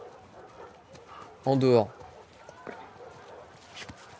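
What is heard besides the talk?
dog barking and whimpering in video game The Last of Us Part II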